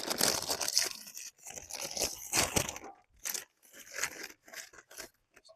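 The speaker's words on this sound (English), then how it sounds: "Got to crunch them on there." Nacho cheese chips crushed by hand onto a chicken salad sandwich, a run of loud close crackling crunches in bursts with short pauses between them.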